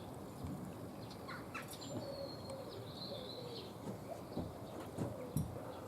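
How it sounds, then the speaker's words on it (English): Small birds around a garden feeder give faint, scattered chirps and tweets over low outdoor background noise, with soft cooing also present. "A few little birds are coming back to that feeder there now."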